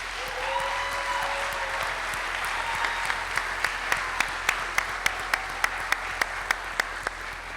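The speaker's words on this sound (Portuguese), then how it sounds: "Eu peço também uma enorme salva de palmas à doutora Cristina." Sustained crowd applause at a grand event, honoring Dr. Cristina, steady and full throughout, with a few sharp, regular claps ringing out above the wash in the second half.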